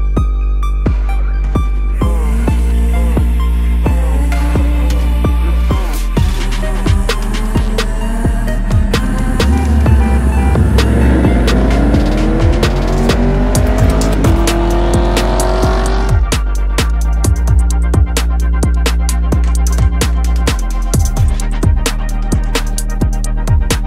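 A car is driven with its engine loud and close. It revs and climbs in pitch through an acceleration, with tire and road noise and changing engine tones throughout.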